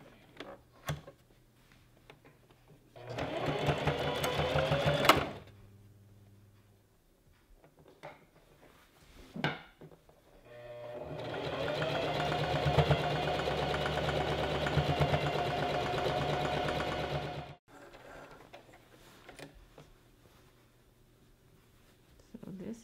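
A sewing machine stitches along the edge of fabric for a gathered maxi dress, running in a short burst and then a longer steady run, with quieter pauses and small handling sounds between.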